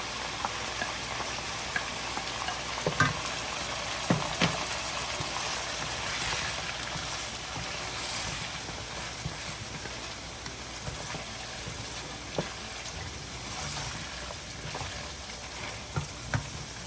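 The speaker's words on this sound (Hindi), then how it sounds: "अब हम इसमें प्याज का पेस्ट डाल देंगे, अच्छी तरह से सॉफ्ट कर लें।" Onion paste for goat head soup fries in a pan with a steady, close sizzle, punctuated by occasional stirring clicks and scrapes throughout, no talk.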